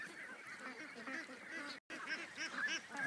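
Domestic ducks or geese honk and quack in a continuous flock chatter, fairly near, with one brief dropout midway.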